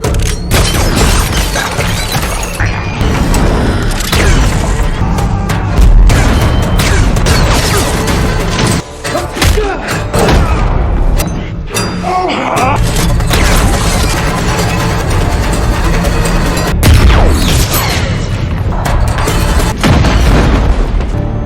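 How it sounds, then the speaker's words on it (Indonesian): Gunfire and explosions from a science-fiction film gunfight against an alien and his three guards, with dense, loud, continuous booms, blasts and crashes layered over a driving score throughout. "Pertarungan senjata segera dimulai."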